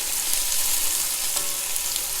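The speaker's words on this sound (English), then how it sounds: "we are actually looking to sweat these vegetables, basically saute them" Vegetables for bolognese sauce sweating in a pan, a dense, even close sizzle with a faint stir or scrape partway through.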